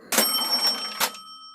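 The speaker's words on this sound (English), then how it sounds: "there's the cash register," A cash register rattles open with a burst of mechanical clatter, then a bright bell rings and lingers as it fades.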